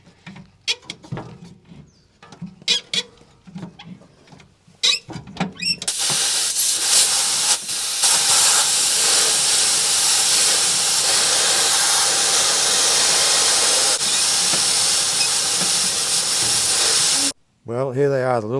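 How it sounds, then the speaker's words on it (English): Compressed air blasting onto the engine bolts of an old V12 Detroit Diesel two-stroke dump truck left in a quarry, a loud steady hiss lasting about twelve seconds after some brief clatter and talk, then cutting off. "Do you want me to hit it with the compressed air again?"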